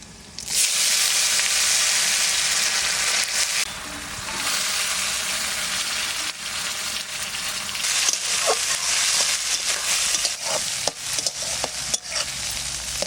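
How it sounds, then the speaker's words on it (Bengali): Washed lentils fry in oil with panch phoron, bay leaf and dried chilli, a loud steady hiss that drops briefly, then returns with repeated scraping stirs and clicks near the end; no talking. "ডালটা ভাজা ভাজা হয়ে গেছে"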